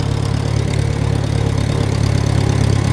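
An old Farmall 140 tractor engine runs at a steady low idle, a constant near rumble with an even throbbing pulse and no voices over it.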